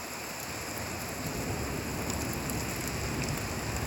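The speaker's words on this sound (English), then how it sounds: "Thunderstorms are beautiful when you are inside." A thunderstorm heard from indoors, with steady heavy rain hissing continuously and a low rumble underneath, the sound evenly loud throughout and without voices.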